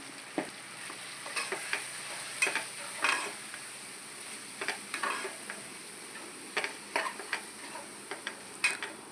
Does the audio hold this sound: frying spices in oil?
yes